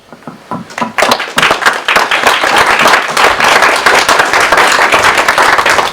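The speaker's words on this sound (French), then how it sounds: "je crois même qu'on peut vous applaudir" At a care home New Year greetings ceremony, a few scattered claps quickly build into full audience applause, close and loud, continuing steadily to the end.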